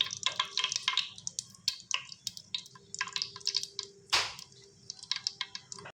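Mustard seeds spluttering in hot oil in a pan, a dense run of sharp crackles and pops, close and fairly loud, with no talk.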